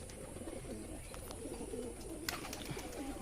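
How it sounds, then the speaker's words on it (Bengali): A male pigeon coos close by, soft repeated low burbling phrases over a quiet, hissy background. "নর পায়রা একটা"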